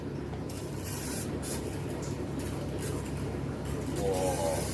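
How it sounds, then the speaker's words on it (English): A spray bottle mists in a continuous hissing burst, close and steady, with faint background noise. "And we spray again."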